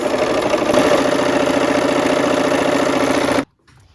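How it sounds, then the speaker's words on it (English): A sewing machine stitches fabric in a steady, continuous run, a close mechanical hum with rapid needle rhythm that stops abruptly near the end, leaving near silence. "This is good therapy sewing, just mindless sewing."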